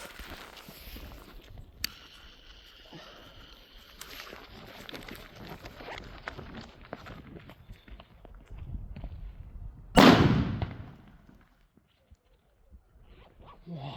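A Gorilla 5-gram firecracker goes off in a single loud, sharp bang that rings out and fades over a couple of seconds, following a stretch of quieter rustling and outdoor background noise.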